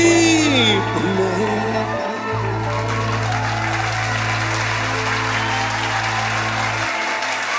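Sustained audience clapping and light cheering at a live Punjabi concert, a dense, even roar of claps running throughout over a steady low hum from the sound system.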